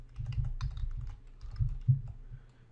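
Typing on a computer keyboard to enter data in an Excel spreadsheet, a quick run of soft close key clicks with uneven rhythm.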